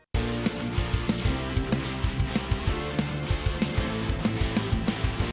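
Anime-style battle theme with driving guitars and bass layered with violas and piano, playing a steady chord progression with regular punchy accents, loud and full for several seconds.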